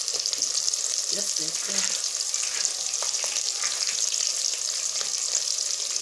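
Onion fries with green pepper and garlic in a pan, a constant bright sizzle with scattered crackles and a few stirring knocks, while a voice speaks briefly early on.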